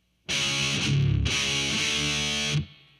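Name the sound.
distorted electric guitar heavy metal riff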